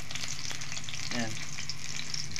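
Onion and garlic sizzle steadily in a hot pan for ginisang repolyo while a utensil stirs them, a brief scraping stir standing out over the constant frying hiss.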